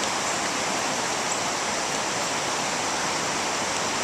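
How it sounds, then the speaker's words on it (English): The flooded Brandywine River rushing during Hurricane Sandy, a dense, constant roar of fast water spilling over its banks onto grass, loud and close with no voices. "the river has flowed past the point that normally flows and is now inundating part of the grass"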